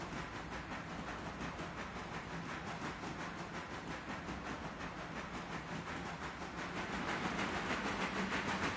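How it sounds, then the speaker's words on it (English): Steam locomotive in the Railroader game chuffing steadily, a rapid, even train of hissing exhaust beats over a rumbling rail background that swells slightly louder toward the end, with no talk. "I hear the chuffing pickup"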